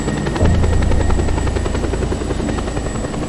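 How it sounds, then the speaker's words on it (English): Loud, steady rotor thumping of helicopters in the video game Just Cause 2, a continuous close chopping drone with a buzzing engine whine, no talk over it. "I'm not going to avoid because of the damn helicopters coming."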